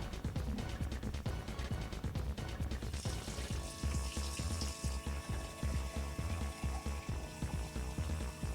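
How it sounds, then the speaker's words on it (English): Tap water running into a drinking glass, a steady close splashing rush that shifts in tone as the glass fills, over a game's background music. "I will get some more water because my glass of water is emptied"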